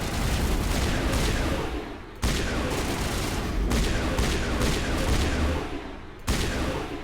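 Sustained heavy gunfire from a gun in Mass Effect, a dense continuous roar of rapid shots that breaks off briefly twice before resuming just as loud.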